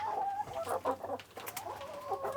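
Several chickens cluck and murmur close by in a coop or yard, a busy overlapping series of short clucks and squawks with a low hum underneath.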